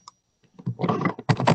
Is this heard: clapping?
no